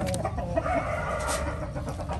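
Chickens cluck and a large rooster crows close by inside a garden coop with egg-collecting nest boxes, the birds' calls overlapping continuously at steady volume with no talking.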